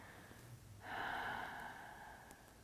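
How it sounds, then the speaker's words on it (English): A person yawning during a yoga stretch: a single drawn-out breathy yawn, close and fairly quiet, rising suddenly then fading over about two seconds in a calm, hushed room. "Take a yawn"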